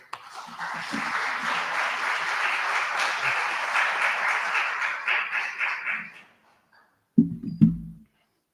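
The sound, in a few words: loud round of applause welcoming a speaker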